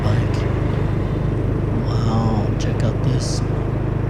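A motorbike engine drones steadily throughout an easy evening ride, a continuous low rumble with road and wind noise, while a rider talks over it at times.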